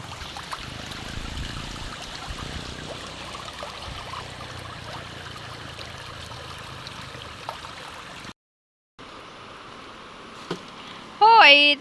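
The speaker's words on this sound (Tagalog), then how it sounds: "Ay talaga nga pong malaki ang Agos." A strong current of brown flood water rushes after rainy weather, a continuous close wash of flowing water, with brief voices near the end.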